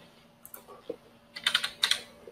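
Keys clack on a computer keyboard in two short bursts of quick, close taps, with a few isolated keystrokes before them.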